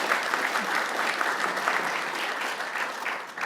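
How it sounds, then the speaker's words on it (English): A convention hall audience at a lawyers' panel on IP law breaks into steady, dense applause for a panelist, loud and sustained throughout without letting up. "Give Karyn a round of applause."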